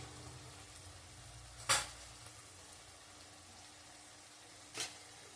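Kashmiri chili powder and turmeric fry in a pan with a soft, steady sizzle, broken by two sharp metallic clinks from a spoon against the pan.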